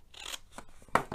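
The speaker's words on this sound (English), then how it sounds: "My scissors got stuck on them, on there." Scissors snip through paper while a flip-top gift box is being made, a few quick, close crisp cuts in uneven rhythm.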